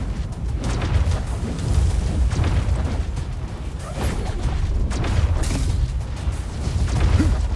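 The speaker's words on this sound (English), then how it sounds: "That magic missile is actually pretty dang good" Magic missile spell impacts in a dark fantasy video game battle, a dense run of booming, bursting hits over a constant rumble, loud and continuous with repeated sharp cracks.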